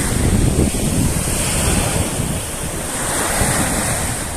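Sea waves wash continuously onto the seashore, a loud, steady surf roar mixed with heavy wind buffeting the microphone, with no voices.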